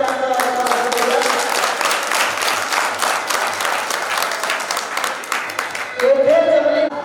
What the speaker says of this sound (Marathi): मोठ्याने टाळ्या वाजवून आपण त्यांचं स्वागत करूयात.